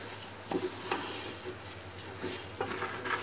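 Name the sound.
stirring rice into spice masala in a pot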